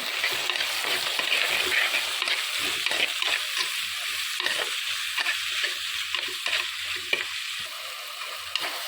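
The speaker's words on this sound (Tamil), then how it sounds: "தக்காளி கருவேப்பிலை அப்படியே வதக்கலாம்" Tomato, onion and curry leaves are sautéed in a pan for a fish curry, giving a steady oily sizzle and frying hiss, with repeated scraping stirs of a spoon against the pan and no talking.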